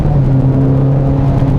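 1991 BMW E30 M3 engine running steadily at 4,000 RPM in third gear, a loud, sustained in-cabin drone with a strong even hum and no talk.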